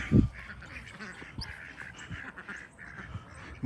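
Ducks quack in a quick, close burst at the start, followed by softer scattered quacking and rustling from a nearby flock.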